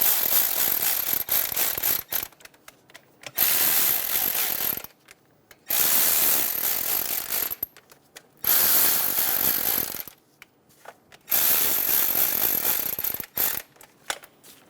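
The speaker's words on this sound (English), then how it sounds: "Snug down the bolts until they touch the cover." A ratchet clicks in quick bursts as valve cover bolts on a 2003-2007 Honda Accord 3.0L V6 are snugged down, loud and close, with several runs of rapid pawl clicking separated by short pauses.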